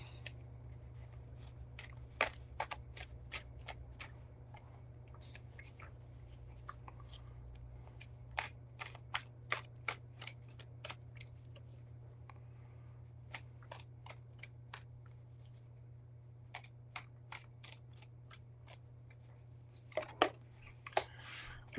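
Tarot cards are shuffled in short, soft bursts of riffling and flicking, quiet and close, scattered over a steady low hum with long pauses between.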